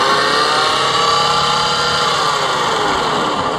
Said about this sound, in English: there's this grinding sound in the motor. It does not sound right.